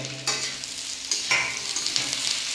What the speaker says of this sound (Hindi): ये डाल दिए हैं प्याज। अब इसको मिक्स करेंगे।